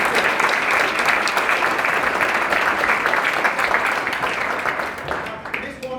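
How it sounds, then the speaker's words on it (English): A club audience at a president's speech breaks into a sustained round of applause, dense clapping that fills the room and fades slightly toward the end, with a voice faintly under it. "and we have a round of applause, please."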